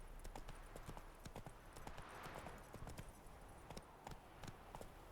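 Roach, a horse in The Witcher 3, galloping at a steady pace, with quick rhythmic hoof clip-clops throughout and faint ambient sound behind, no talking over it.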